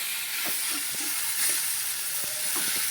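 A Bengali snail curry (guglir jhal) fries in a pan with a constant close, bright sizzling hiss, broken by soft scraping strokes as it is stirred.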